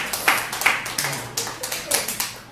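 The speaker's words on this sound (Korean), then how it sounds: "박수 치라고도 아닌데 박수 쳐니까요" Church congregation clapping during a Sunday sermon, a rhythmic series of fairly close, distinct hand claps in a steady beat, mostly alone with little talk.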